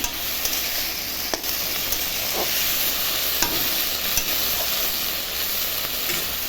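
Red amaranth greens stirred in a hot pan give a steady, close sizzling hiss with a few soft scraping knocks, and no voices.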